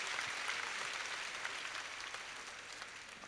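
A steady, fairly distant wash of audience applause sweeps through a large hall at the 2004 Meril Prothom Alo Awards as a singer comes onstage, continuous and even throughout.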